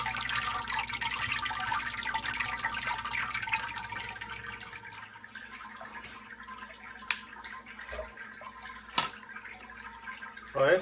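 Beer wort drips and trickles down through the grain bed of a Grainfather brewing system while brewing an Amarillo IPA, a wet running patter that thins out halfway into sparse separate drops and splashes.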